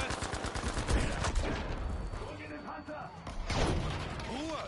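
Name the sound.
gunfire and ricocheting shot in the video game The Last Tiger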